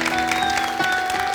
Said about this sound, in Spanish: Aplaudan, por favor, aplaudan a Dios al menos.